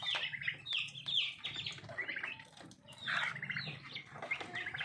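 Chickens on a small poultry farm cluck and squawk in repeated bursts, with some faint wing flapping and a low background murmur, moderately near and without speech.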